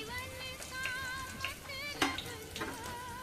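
Cinnamon, bay leaf, cloves and black pepper fry in a pan for Maharashtrian masale bhat, giving a soft sizzle with a few sharp clatters from stirring, under a warbling tonal layer.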